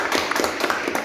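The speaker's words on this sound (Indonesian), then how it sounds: "tepuk tangan buat semuanya." Applause from an audience at an educational presentation by university students, a burst of scattered hand claps with uneven rhythm, moderately loud and close, lasting about a second with no talk over it.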